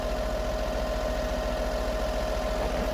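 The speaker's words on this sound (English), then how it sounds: "I'll maybe put it at like a higher idle. Maybe 900, 1000 RPM or so." Chevy truck engine idling at a raised speed of around 900 to 1000 RPM, a steady loud drone with an even pulsing throb, no talk.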